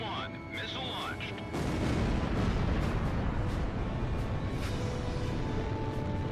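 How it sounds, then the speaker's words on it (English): Heavy explosions and missile blasts in the Ace Combat flight game, a loud dense rumbling barrage that swells after a brief quieter opening and stays sustained, with faint tonal game sounds early on. "Galm 1, missile launched."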